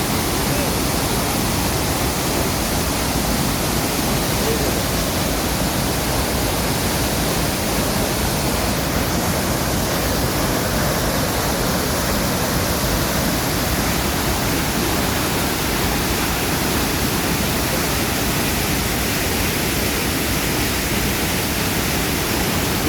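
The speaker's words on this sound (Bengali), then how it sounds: "আপনাদেরকে আমি সামনের দিকটা একটু দেখানোর চেষ্টা করি, নাফাখুমের ঝর্ণার উপরের অংশটা।" Upper section of Nafakhum waterfall in Bandarban roars as a dense, continuous rush of falling water, loud and close, masking all other sound throughout.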